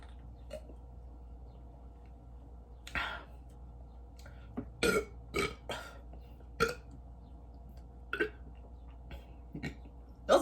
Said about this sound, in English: Those are wet burps.